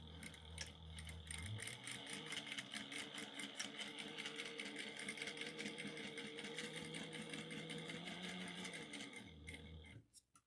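A sewing machine stitches a backstitch on a tomato pattern at 1/8 inch, its needle ticking in a fast, even rattle for several seconds before stopping.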